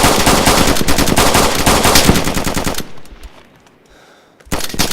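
Rapid automatic gunfire from a video game firearm blasts loud and close for nearly three seconds, drops to near silence, then resumes in a fresh burst at the end.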